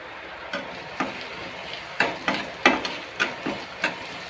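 Curry leaves and onion hitting hot oil in a pan, a steady sizzle broken by a series of sharp clacks and spatters from stirring, close up with no talking.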